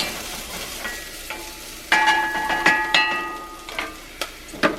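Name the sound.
jalapenos frying in cast iron pot for chicken chili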